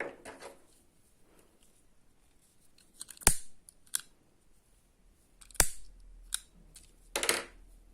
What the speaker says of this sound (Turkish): İpimizi burada kesiyorum.